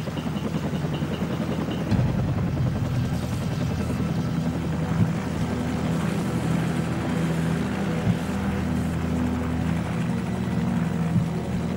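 A helicopter in the Call of Duty 4 sniper mission drones continuously, with a steady, loud rotor rumble that carries on unbroken throughout.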